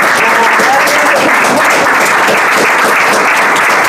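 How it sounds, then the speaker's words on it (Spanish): Loud, dense applause from guests at a civil wedding ceremony in Santa Rosa, right after a couple is congratulated. The clapping is close and continuous, holding steady for about four seconds. "les voy a pedir a los presentes que les brindemos un gran aplauso."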